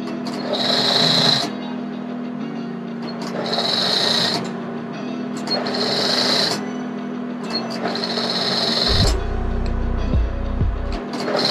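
Sewing machine stitching the hem of formal pants, running in four repeated bursts of a few seconds each with short pauses, steady mechanical whir close by, ending with a low thud-like rumble.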